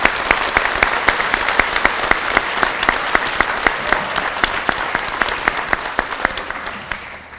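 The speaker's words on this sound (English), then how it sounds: "How about one round of applause," One round of applause at a security graduation ceremony: many hands clapping loudly and close, a dense, steady patter with crisp individual claps that thins slightly near the end.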